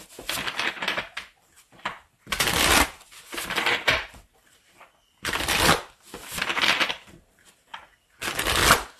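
Tarot cards being shuffled by hand in a series of crisp riffling bursts, each lasting about a second, separated by short pauses, close and fairly loud with no talking.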